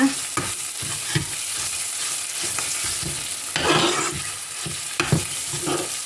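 Spicy frog stir-fries with red curry paste and chillies in a pan, a loud continuous sizzle broken by repeated scraping and stirring strokes, with no talking over it.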